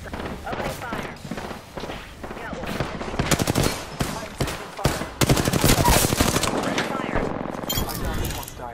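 Rapid gunfire in Apex Legends, sustained bursts with thuds and impacts running loud and dense through most of the stretch, mixed with game voice lines and effects.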